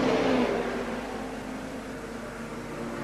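A Suzuki racing motorcycle in a six-hour endurance race sweeps past, its engine a steady whirring drone that swells briefly at the start, then holds a constant, moderately loud hum as it carries on.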